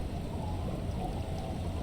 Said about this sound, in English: There are rain circles on water all around.